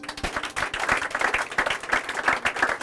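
A church congregation applauds for Jesus, a steady, fairly loud wash of many hands clapping in quick rhythm, with faint voices mixed in.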